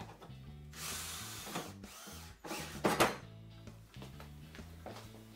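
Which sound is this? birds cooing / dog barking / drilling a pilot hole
drilling a pilot hole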